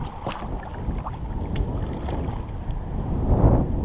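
A breeze gusts over a lake at Cassien, rushing and buffeting the microphone with low rumbling wind noise, while faint water lapping and knocks against a boat come through underneath.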